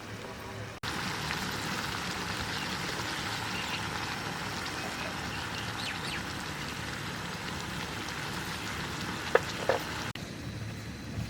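Mustard oil in a pan for masala chicken gives off a constant, even sizzle that runs unbroken for several seconds, with a couple of faint clicks near the end.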